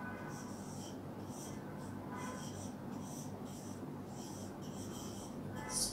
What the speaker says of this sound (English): Let's write the answer.